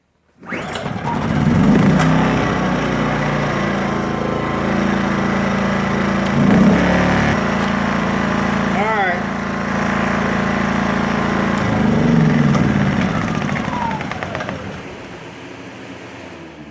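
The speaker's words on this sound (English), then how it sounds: "I just want to crank it back up on non-choke to see how that worked" A Sportsman GEN2000i inverter generator is pull-started with the choke off, catches after a short crank and runs at a steady, loud, close drone, with slight engine-speed swells along the way.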